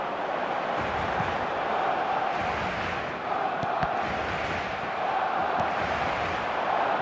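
A large stadium crowd in an eFootball video game match roars steadily throughout, a dense, continuous wash of cheering without clear breaks.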